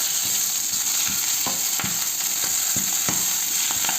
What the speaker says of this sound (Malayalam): ചീര ഒന്ന് വറുത്തിയെടുക്കാം